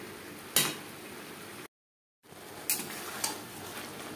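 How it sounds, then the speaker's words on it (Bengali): Bottle gourd stalks with spices and potatoes are stirred in a pan, giving a soft frying sizzle broken by a few sharp spatula scrapes and taps, with a brief silent gap partway through. "মশলা ও আলুর সাথে লাউর ডাঁটা বেশ ভালো করে মিক্সড করে দেব।"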